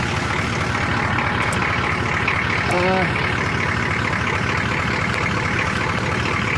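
A 1981 Oldsmobile Cutlass diesel engine runs with a steady, loud low clatter and drone, idling close by without pause while someone speaks over it.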